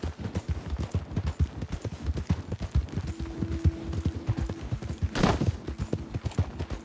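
Horse hooves clip-clopping in Red Dead Redemption 2, a brisk, steady rhythm of close, punchy footfalls, with a brief whoosh of movement midway.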